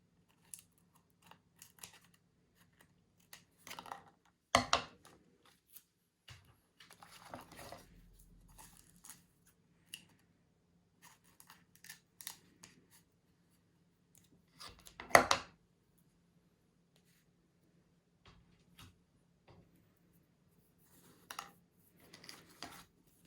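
Scissors cutting excess sellotape off the ends of a rolled paper rocket tube, a few sharp crisp snips among quiet handling rustles and taps, close and otherwise quiet.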